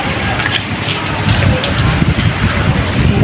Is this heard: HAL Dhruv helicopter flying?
no